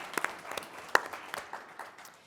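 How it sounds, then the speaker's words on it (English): Sparse applause from a small audience at a political panel discussion, a few scattered, separate hand claps that are faint and thin, tapering off over two seconds. "give him a round of applause for his forward thinking in having us here today."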